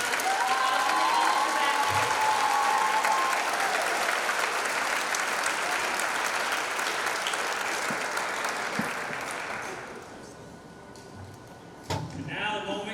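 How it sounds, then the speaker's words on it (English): At a high school Mr. BHS 2022 pageant, the audience applauds the staff in a loud, dense wave with some cheering, which thins and fades toward the end before a few stray claps and shuffles. "So please give them a round of applause."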